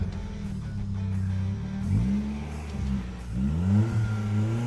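An SR20-powered Infiniti G20 revs hard for a clutch launch, the engine climbing and falling in repeated loud surges close by with no talk over it.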